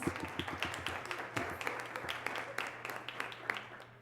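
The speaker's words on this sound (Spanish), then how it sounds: "Gracias por los aplausos." Light audience clapping at a conference talk on legal challenges of artificial intelligence, sparse, distinct claps over a low steady room hum, fairly faint.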